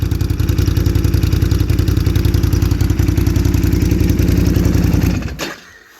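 A motorcycle engine, an Outty, revs hard at the throttle from close by: a loud, steady rapid pulsing drone that holds for about five seconds, then cuts off abruptly and fades into quiet.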